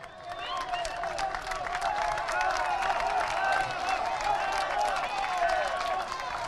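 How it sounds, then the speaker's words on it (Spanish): A crowd at a university campus handover event in Tarija, Bolivia claps steadily and fairly loudly for the president, a continuous wash of applause heard from within the audience. "Y lo recibimos con este fuerte, fuerte el aplauso para nuestro presidente."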